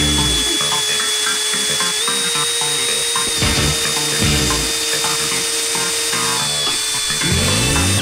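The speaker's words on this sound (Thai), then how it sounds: "ลองมาดูโฮซอสำหรับเจาะไม้บ้างนะครับไม้ที่ผมเจาะวันนี้เป็นไม้สนนะครับค่อนข้างหนาทีเดียวใช้เวลาเจาะเยอะหน่อยนึงครับ" A PUMA PM-245BL cordless drill fitted with a hole saw bores through thick pine wood, a loud, continuous whining motor drone with a steady pitch that dips and shifts as the cutter bites, running alone for several seconds.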